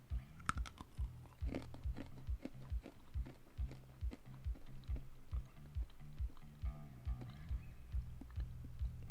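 Crunchy candy corn-like treat being chewed close up, a steady run of crisp crunching bites repeating roughly twice a second, quiet and alone without talk.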